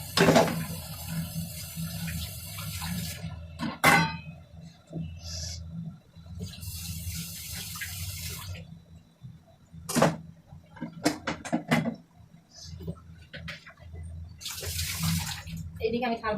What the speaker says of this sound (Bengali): এইদিকে আমি থাল বাসন যেগুলো মাছ ছিল সেগুলো ধুয়ে দিলাম